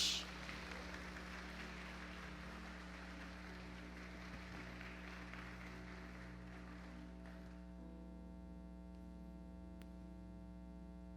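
A church congregation applauds for Jesus at a preacher's prompting, a broad wash of clapping that fades out over several seconds, leaving a steady electrical hum from the sound system.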